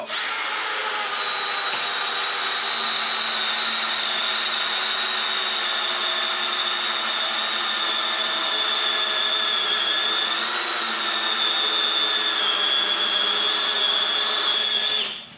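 DeWalt Atomic DCD708 and Milwaukee M12 Fuel compact drill-drivers running flat out together, a loud, steady high-pitched motor whine that holds for about fifteen seconds before cutting off, with no talk.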